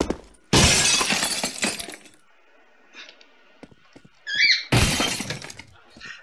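A glass being handled and knocked, with two loud bursts of rattling, clinking glassy impacts separated by quieter faint clinks and taps, heard close with no talk.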